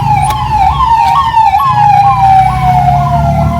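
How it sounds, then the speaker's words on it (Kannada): An ambulance siren wails loud and close on a busy ghat road near Shivamogga, its rising-and-falling tone repeating rhythmically over a low traffic rumble, with no talking. "ಇನ್ನೊಂದು ಆಂಬುಲೆನ್ಸ್ ಕಣಪ್ಪ, 3ನೇ ಆಂಬುಲೆನ್ಸ್ ಇದು."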